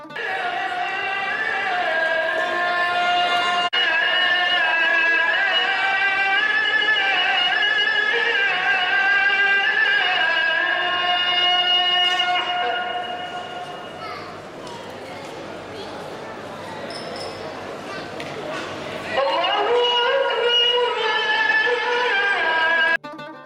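Busy outdoor ambience of a crowd, with many voices, children chattering and playing, echoing in the large open courtyard of the Umayyad Mosque in Damascus, Syria.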